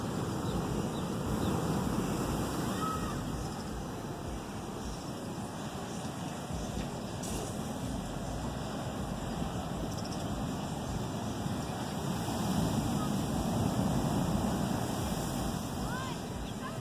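Continuous roaring wash of storm surf crashing and wind at Pokai Bay, Hawaii, broad and steady with swelling surges, heard outdoors near the water with a voice murmuring beneath.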